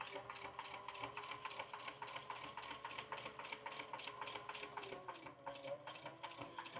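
Sewing machine stitching a leather rifle sling with an exotic inlay, a rapid, regular mechanical chatter of needle strokes running continuously at close range, with no talk over it.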